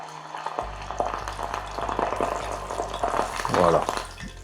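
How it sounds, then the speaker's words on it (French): A small piece of beef sizzling in hot oil in a pan, a crackling, bubbling fry that rises louder near the end, with a low hum underneath and a voice talking over it. "On peut entendre. L'huile est bien chaude."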